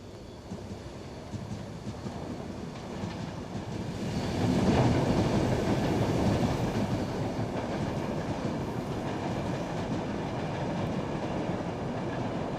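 An Intercity 225 electric express train, built for 225 km/h, runs on rails with a continuous rumbling roar and rhythmic wheel clatter that swells midway and stays loud and steady.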